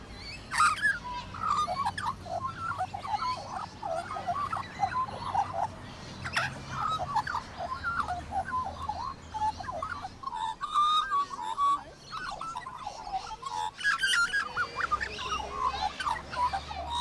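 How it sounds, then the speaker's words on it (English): Australian magpies warble in a bright, bubbling chorus of fluting, rising and falling notes that carries on for the whole stretch over a soft outdoor background. "Australian magpies really are stars at warbling."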